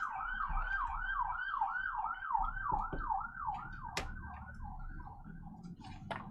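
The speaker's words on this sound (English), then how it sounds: "we got sirens out here" A wailing emergency siren rises and falls in steady cycles, moderately distant, with a couple of sharp clicks and background traffic rumble.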